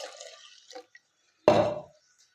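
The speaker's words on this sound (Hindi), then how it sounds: "अब इसके अंदर ही हमने और पानी डाल देंगे।" Water is poured into a ground almond and cardamom mixture for a Ramadan almond sharbat, giving a short, close splash and trickle after a moment of quiet, with a little soft sound before it.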